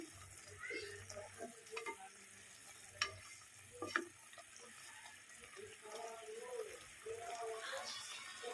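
Semiya upma cooks in a pan with steady sizzling, punctuated by a few sharp spoon clinks and scrapes while stirring, soft and close with faint background voices.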